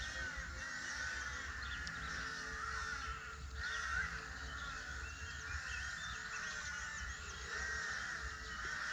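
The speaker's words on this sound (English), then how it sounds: "What's going on with these crows?" A group of crows gathered in one tree caw repeatedly over nine seconds, their calls overlapping at a moderate distance above a steady outdoor rumble and hiss.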